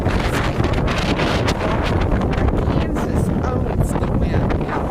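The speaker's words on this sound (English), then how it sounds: "owns the wind." Strong Kansas wind batters the microphone outdoors near Wichita, a loud, constant roaring buffet with gusty surges throughout.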